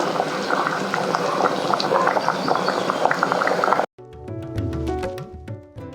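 Jaggery syrup with cardamom bubbles in a pot, a dense close boiling burble that cuts out briefly and gives way to softer bubbling and clinks.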